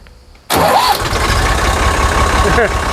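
A vehicle fitted with new hydrostatic steering cranks and its engine catches suddenly, then settles into a loud, steady idle close by, with brief talk underneath.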